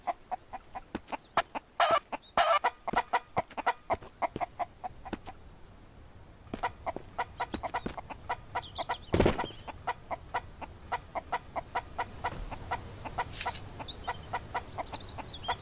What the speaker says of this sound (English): I'm gonna have to kill this chicken.